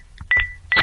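A telephone number is being dialed, and short bright keypad tones sound one after another in close, loud bursts with brief gaps between them.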